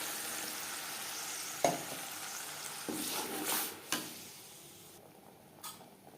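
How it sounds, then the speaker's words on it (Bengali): Soft, steady sizzle of spice paste frying in oil in a wok, with a few sharp clinks and scrapes of a spoon against the pan. "ক্যাপসিকাম ভেজে নেওয়া কড়াইতে আবারও তেল দিয়েছি। দিয়ে দেব মশলার পেস্ট।"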